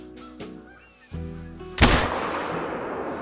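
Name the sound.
rifle gunshot at a deer in video game The Hunter: Call of the Wild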